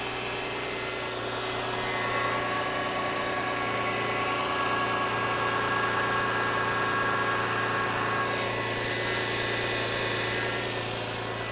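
Subaru engine idling during a pre-purchase inspection, a steady low hum with faint mechanical vibration running evenly throughout, close and moderately loud with no talk.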